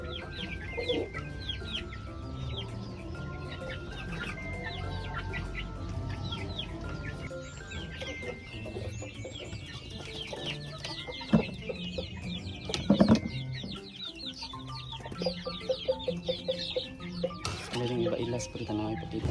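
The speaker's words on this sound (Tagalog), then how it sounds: "Ito po ang ating Gilmore hen mga pre" A Gilmore hen and other gamefowl chickens cluck and chirp steadily, with a few louder bursts of clucking and bird calls scattered through a busy yard.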